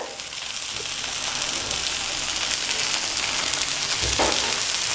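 A ragi rava dosa sizzles steadily on a pan over medium heat, a continuous close hiss of frying batter with a brief scrape near the end.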